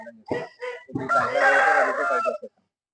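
A country rooster crows close by at a chicken farm, one loud, full crow of about two seconds. A few short clucks come just before it.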